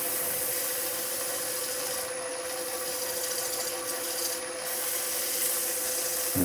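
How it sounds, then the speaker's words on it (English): Wood shavings rubbed over the waxed surface of a freshly turned bowl give a steady, close, dry scrubbing rustle that runs without a break, with no voices. "So we're going to use some shavings again just to take off the excess."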